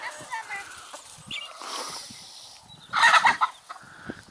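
Chickens and guinea fowl cluck and call in a farmyard after rain, with scattered cackles and a louder burst of squawking partway through, while a person talks quietly between the bird sounds.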